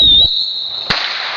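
A bottle rocket firework launches with a loud whoosh, then a high thin whistle trails on with a sharp crack partway through, close by and outdoors.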